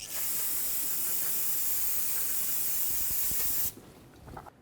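Loud steady hiss of a spray rinsing a cleaned rear brake hub on a 2013-2018 Hyundai Santa Fe, running for several seconds close by and then cutting off abruptly into faint clatter.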